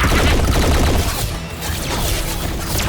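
Robot cannons fire in a Transformers cartoon battle, a loud rapid barrage of blasts and crashes that keeps up for about three seconds with no voices over it.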